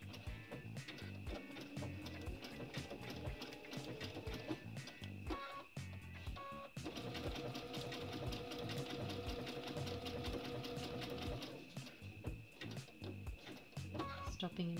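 Sewing machine stitching a machine appliqué piece, quick rhythmic needle chatter in bursts with short pauses for pivots, close and fairly quiet, with someone talking over it.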